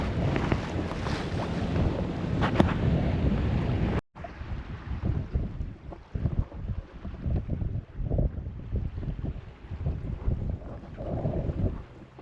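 Sailboat sailing into Pretty Marsh on Mount Desert Island along the Maine coast, with strong wind buffeting the microphone over the rush of water against the hull, loud at first, then a steadier gusty wash.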